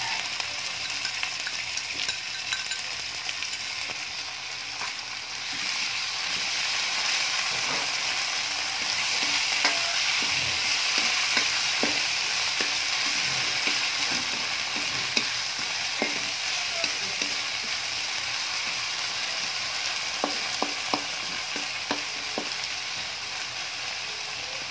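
Corned beef sizzles steadily in a hot pan as it is fried and stirred for a lumpiang toge filling. Scattered scrapes and taps from the utensil sound over the continuous crackle.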